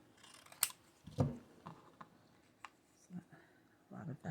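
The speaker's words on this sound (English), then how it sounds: "Just gonna cut this in half." Scissors snip a craft scrap in half in a quiet room, giving a few close, crisp cuts with short pauses between them and soft handling noises.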